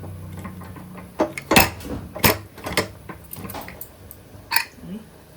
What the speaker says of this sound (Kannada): ನೋಡಿ ಪ್ರೆಷರ್ ಬಿಟ್ಟಿದೆ, ಓಪನ್ ಮಾಡ್ತಾ ಇದ್ದೀನಿ.